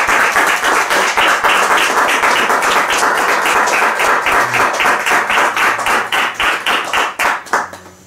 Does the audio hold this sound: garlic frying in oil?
no